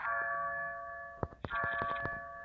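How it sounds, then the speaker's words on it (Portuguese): A bell rings in a video game, with a steady sustained tone followed by a few sharp struck strikes near the end, moderately loud over faint background. "Já tocou o sino, beleza."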